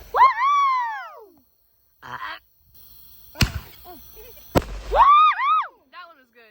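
Black Cat Party Pack consumer fireworks go off during a Fourth of July backyard show, two sharp bangs cracking a second apart while people whoop and cheer loudly before and after.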